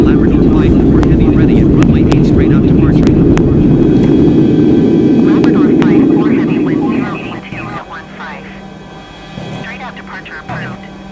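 Airliner jet engines roar loudly at takeoff in Microsoft Flight Simulator 2020, a sustained broadband rumble that drops away partway through, leaving a quieter engine hum while a voice talks.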